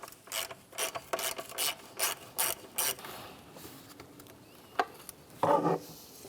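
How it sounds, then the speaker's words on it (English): A ratchet wrench fitted with a 12mm socket loosens a bolt on a 2007-2013 Mitsubishi Outlander during front catalytic converter replacement, making a run of rapid, close ratcheting clicks, then a pause and a final scraping rattle. "So with a 12mm socket, there'll be one bolt behind here. I'll take that out now."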